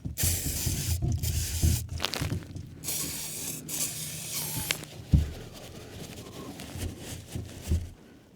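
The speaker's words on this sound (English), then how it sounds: "maybe a bit with brake cleaner" Brake cleaner sprayed around the oil filter area of a 2018 Opel Astra K 1.6 CDTI during an oil change: bursts of steady hissing spray, fairly close, separated by short pauses and light handling noises.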